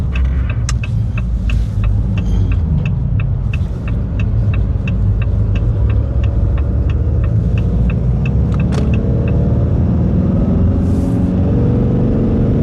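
A 2026 RAM 2500 diesel pickup towing a travel trailer gives a steady, loud engine drone and road rumble throughout, with faint rhythmic ticking above it and no talk.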